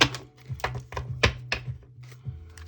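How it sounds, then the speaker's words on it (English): Tarot cards shuffled by hand at close range, a string of crisp rapid slaps and riffles in uneven bursts over a faint low hum, with no talk. "gonna give this another shuffle"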